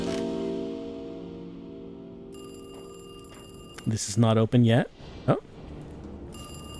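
A telephone in the video game Alone in the Dark starts ringing partway through, in repeated electronic bursts over a low background hum, while someone talks over part of it.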